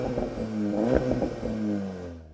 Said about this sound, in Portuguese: Agora, o Golf R tem um exaustor Akrapovic, então ele deve ter um som bem legal